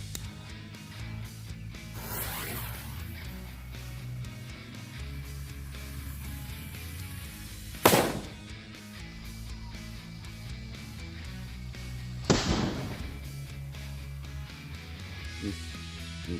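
Two sharp, loud firecracker bangs ring out several seconds apart over a steady background hum, each a sudden explosive crack.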